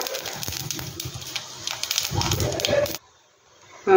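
Cumin seeds hit hot oil in a pan for beetroot raita and crackle and spit with irregular sharp pops, close and fairly loud, before the sound cuts off abruptly.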